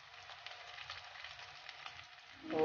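Chicken frying in a pan for vegetable and chicken spaghetti, a soft, steady sizzle with faint crackles, quiet and close, swelling louder near the end, no talking.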